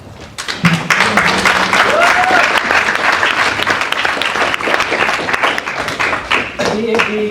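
An audience applauds at the MOSTIMUN 2016 Model UN closing ceremony, a dense, steady roar of clapping from a large crowd that stays loud throughout, with a voice faintly audible underneath.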